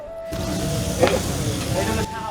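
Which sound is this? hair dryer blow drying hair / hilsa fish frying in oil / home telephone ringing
hilsa fish frying in oil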